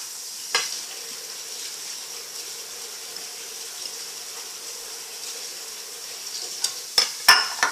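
Embutido meat mixture, sticky with cheese added, stirred in a bowl: a faint, soft wet mixing texture with a few sharper utensil knocks near the start and toward the end.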